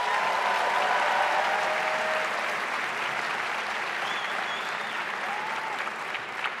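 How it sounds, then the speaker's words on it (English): Sustained audience applause fills a university symposium hall, dense and even at a steady loudness throughout, fading slightly toward the end. "please join me in giving Loomis and Greg a round of applause"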